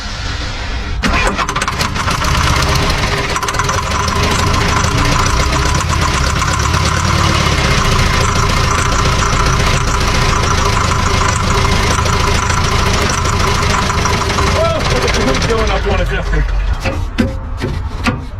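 An old diesel engine cranks, then runs roughly and loudly up close for a long stretch, steady and uneven with knocking, before cutting out near the end.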